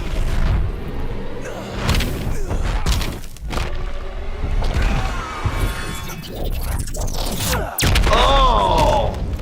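Fire attack in the fighting game Injustice 2, with booming impacts, crackling bursts and thuds in a dense, loud mix, under a voice.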